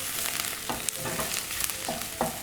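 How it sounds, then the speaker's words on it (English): Fresh ginger and garlic being stirred in a hot pan for scrambled tofu: a loud steady sizzle with several scraping strokes of the utensil and a couple of small knocks, close by and without talk. "Alright, we'll just give it a stir."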